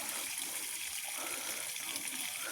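Water flows steadily from a hose or tap while plants are watered, a continuous close gushing hiss with no talk.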